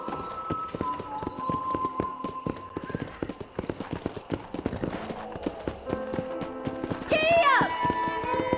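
Horse hooves clip-clop at a steady trot in the Red Dead Redemption video game, close and rhythmic, with a voice talking over them and a brief whinny near the end.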